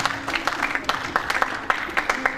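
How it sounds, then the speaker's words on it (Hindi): A theatre audience claps in scattered, uneven bursts at a festival, modest applause with individual hand claps audible, under a faint steady tone. "जोरदार तालियों से आज के मुझे का स्वागत किया जाए।"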